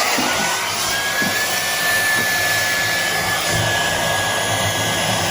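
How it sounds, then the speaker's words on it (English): A hair dryer blows outdoors with a loud, steady whoosh and a thin whine riding on top, running continuously up close. "I've never seen anyone with a hairdryer out here."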